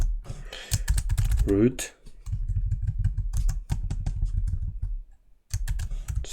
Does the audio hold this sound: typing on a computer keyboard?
yes